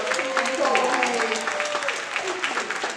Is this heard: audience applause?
yes